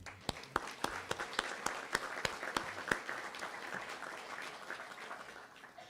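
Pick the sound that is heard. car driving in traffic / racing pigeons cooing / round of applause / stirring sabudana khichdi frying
round of applause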